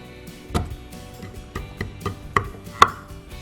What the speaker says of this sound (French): Attends, je coupe juste ce morceau-là.